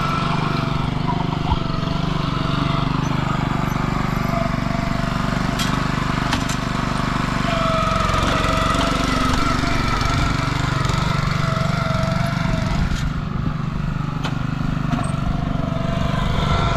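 A lawn core aerator machine works a lawn during fall aeration and overseeding, its engine a loud, continuous rumbling drone that holds steady throughout with slight shifts in pitch.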